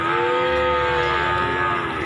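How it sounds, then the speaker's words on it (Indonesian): A PO cow moos in one long, loud, close bellow at a village livestock market in Jangkang, Sleman, heard alone for about two seconds. "Inilah sapi-sapi PO juga nih terbaru yang ada di sini"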